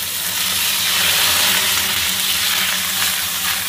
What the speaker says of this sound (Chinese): 下入四季豆，